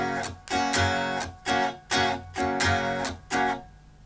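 An acoustic guitar strums a second-measure pattern from a song in a steady run of down and up strokes, close and clear, ending in a short ringing pause.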